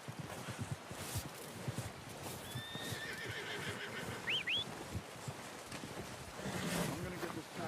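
Horse whinnies in Red Dead Redemption 2 near the middle, a rising shrill neigh amid clip-clop hooves, light wind and ambient game sound, with a voice speaking around it.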